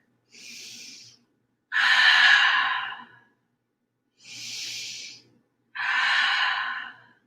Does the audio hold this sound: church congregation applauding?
no